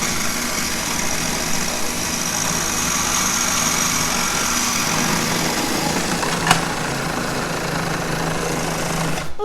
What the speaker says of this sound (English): we're gonna just process this on high. So it's really nice and creamy.